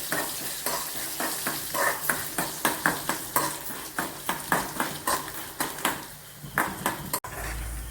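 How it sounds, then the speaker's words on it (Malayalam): A steady sizzle of dried turkey berries frying in coconut oil with rhythmic scraping stirs of a spoon against the pan, repeating every half second or so, close and clear. "ചുണ്ടവത്തൽ മൂത്ത് വന്നിട്ടുണ്ട്. ഇത് വറുത്ത് കോരി മാറ്റുക."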